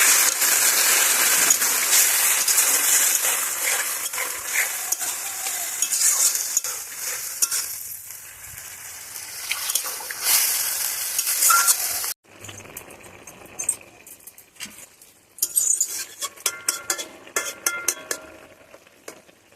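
A fish curry made with bali fish, with water just added, sizzles and bubbles steadily in a pan while a spoon stirs it. The stirring scrapes and clicks irregularly, and after a brief pause the sputtering frying picks up again.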